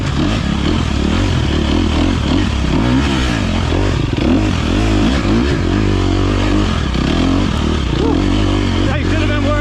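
An off-road motorcycle engine runs loud and continuous during a gnarly A250 race on a rough track, chugging and revving in uneven surges with clattering and scraping over the top.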